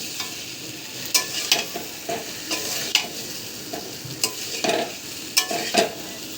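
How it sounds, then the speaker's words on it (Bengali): A spoon scrapes and stirs repeatedly through a sizzling pan of chicken curry with taro, with sharp scraping strokes over a continuous close frying hiss. "তাহলে ভালোভাবে কষানো যাবে এরপর ভালোভাবে কষিয়ে নিতে হবে"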